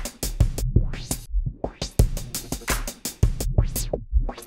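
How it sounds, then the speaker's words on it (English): Music processed through a Logic Pro Remix FX LFO with vintage filtering, its tone sweeping and pulsing in rhythmic bursts with deep bass hits, loud and upfront without speech. "it's an LFO that has vintage filtering."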